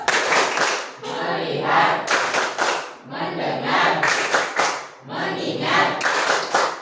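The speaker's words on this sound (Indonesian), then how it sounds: "Tepuk fokus." A classroom of students performs a rhythmic focus clap, loud unison handclaps in three repeated patterned bursts separated by brief pauses, with voices chanting along.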